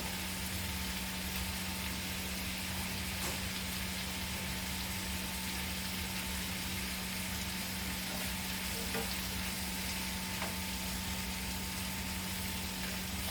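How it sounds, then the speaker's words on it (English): Sliced carrots sizzle in a hot pan of oil while brown stew snapper is being cooked, a steady close frying hiss with faint crackles and a constant low hum underneath, no talking. "I'm gonna add my slice of carrots in here."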